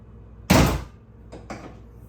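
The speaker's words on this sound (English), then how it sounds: "The first thing we're going to do is pop the hood." Hood release on a Jeep Cherokee SRT with a 6.4-liter V8 Hemi pops open in one loud, sharp thunk, then two softer, brief clicks of the latch follow, close by with no talking.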